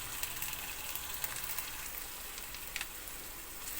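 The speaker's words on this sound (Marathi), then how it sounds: "हे पूर्ण मिक्स करून टोमॅटो मऊ शिजेपर्यंत परतवायचं." Ginger-garlic paste, tomato and coriander masala sautéing in a pan, giving a steady soft sizzle and crackle with small pops throughout, fairly quiet and without talk.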